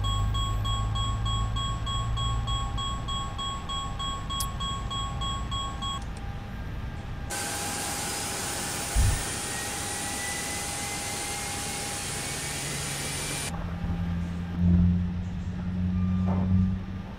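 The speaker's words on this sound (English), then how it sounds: "And starting engine one." An A320 jet engine spools up in the X-Plane 11 flight simulator, a steady whine and rushing hum with rising tones, then a sudden louder broadband roar that later drops back, with no voices.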